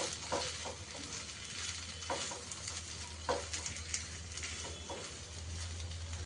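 Mashed potato mixed with spices by hand for Bengali egg chop filling, with soft repeated squishing and scraping strokes in an irregular rhythm, close and fairly quiet, no talking.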